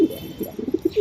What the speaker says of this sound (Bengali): নতুন ইয়াং কবুতর ভাই, ইয়াং কবুতর দেখছেন?